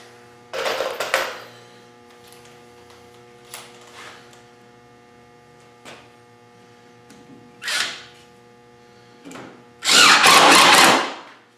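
A power drill drives 2-inch screws into a wooden bench, several short whirring bursts separated by pauses, ending in a longer, louder run, close by over a steady electrical hum.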